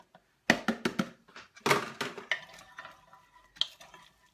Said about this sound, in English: Give that a mix. And we're also going to pop in our spring onion